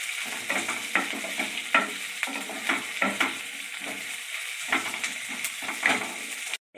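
Chopped onion, garlic, green chili and ginger frying in a pan for palak paneer, a constant sizzle broken by repeated rhythmic scrapes and clatters of a spatula stirring, close up, with no talk.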